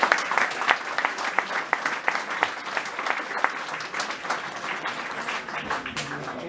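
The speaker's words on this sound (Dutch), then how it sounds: "Geef hem een applaus" A Carnival association crowd at an anniversary book launch in Aalst gives a steady round of applause with many hands clapping. The applause stays at an even level throughout, with voices and chatter mixed into the clapping.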